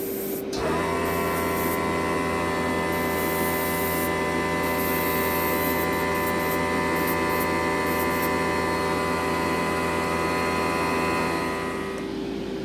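A steady, continuous hiss of an airbrush spraying weathering paint onto a model rail car, with a constant mechanical hum underneath, running unbroken for several seconds before stopping.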